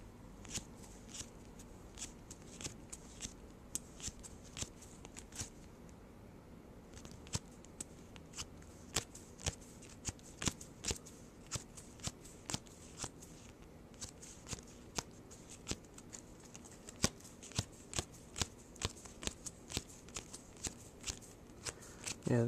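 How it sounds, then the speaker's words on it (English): A deck of cards in a burn deck being flipped through card by card, giving a long run of quick, crisp snaps and riffles spread across the whole stretch, fairly close and moderately loud, with no talking. "so just do the quick flip through, and then I'll talk about each card"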